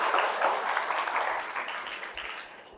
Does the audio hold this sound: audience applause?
yes